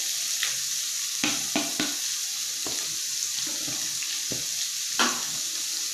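Onion frying in hot oil for pasta carbonara, a steady sizzling hiss broken by repeated spatula scrapes and stirring knocks against the pan.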